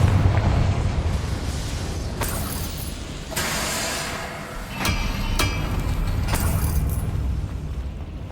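A Confringo fire spell bursting in Hogwarts Legacy: a loud rumbling blast with several sharp cracking impacts in quick succession over a sustained roar.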